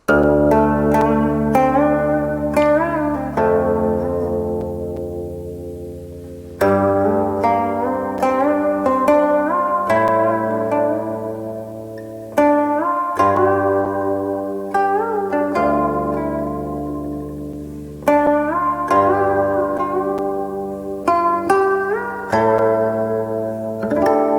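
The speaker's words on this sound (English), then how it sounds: "She's playing with the guqin." A guqin plays slow phrases of resonant plucked notes with sliding pitches and long decays, loud and close, without voices.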